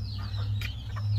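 A few short hen clucks from a small backyard flock with a young rooster, close and brief, over a steady low hum.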